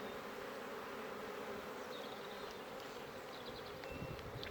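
Honeybees buzz at an opened hive in a spring apiary, a dense steady hum that stays faint and continuous throughout, with no voices.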